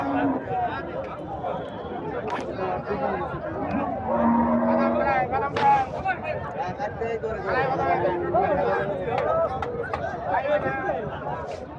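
Cattle at a busy Bangladeshi livestock market, Chandaikona haat in Sirajganj, with occasional moos rising from a noisy crowd of chattering voices and bustle around them.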